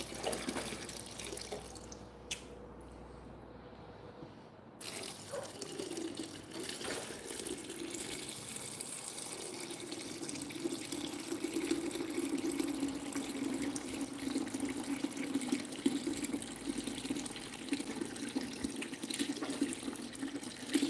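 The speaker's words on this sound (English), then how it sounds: "I drain this tank pretty low." Water drains steadily from a 30 gallon aquarium, a soft continuous trickling and gurgling flow that starts after a brief quiet pause and stays faint throughout.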